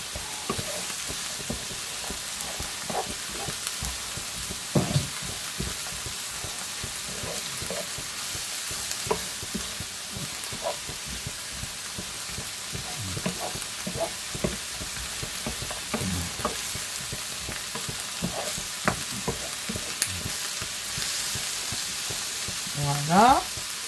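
Corned beef frying in oil in a pan, a steady close sizzle with scattered crackles and the occasional scrape of stirring, no voices.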